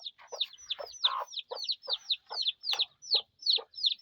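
Backyard chickens kept alongside rabbits in a kitchen garden cluck in a steady run of short, sharp calls, about a dozen evenly spaced notes, close by with no talk over them.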